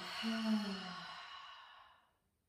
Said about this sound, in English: Take a nice deep inhalation through the nose. And exhale, let it go.